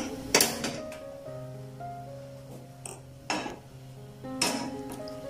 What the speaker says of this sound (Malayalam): നമുക്കിനി അടുപ്പ് കത്തിച്ച് പാൻ വയ്ക്കാം.